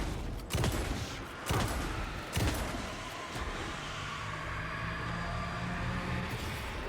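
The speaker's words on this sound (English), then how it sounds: "let's just try shooting him" Gunshots in Alan Wake II come as three loud, spaced cracks, followed by a lingering rumble and a faint steady hum.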